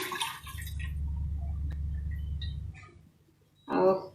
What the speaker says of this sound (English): Put this liquid right back into the pan.